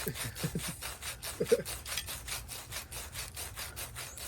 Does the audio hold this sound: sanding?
yes